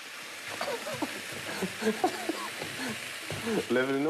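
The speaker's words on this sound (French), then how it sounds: "Quand j'arrive à faire cuire un truc dans la poêle" Food cooking in a frying pan with a soft steady sizzle and occasional stirring scrapes, while a person speaks over it.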